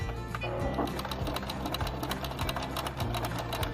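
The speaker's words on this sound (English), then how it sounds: "So we're going to sew a 1/4 inch here." A sewing machine stitches a quarter-inch seam with backstitching on a quick summer sewing project, its rapid mechanical needle chatter steady, close and loud, running without pause and with no talk over it.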